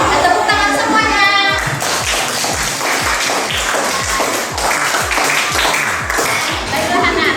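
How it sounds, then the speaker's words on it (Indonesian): Schoolchildren in a classroom clap together in a steady rhythmic beat, loud and close, with a few young voices and chatter mixed in over the clapping. "Tepuk tangan semuanya."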